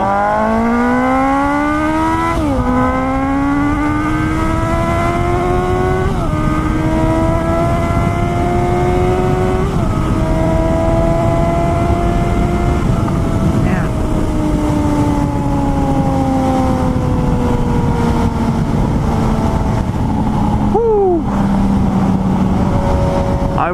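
A 2018 Suzuki GSX-S 750 motorcycle engine pulls through the gears while riding, rising in pitch then dropping at each upshift, loud and close, later easing off as the rider rolls off the throttle.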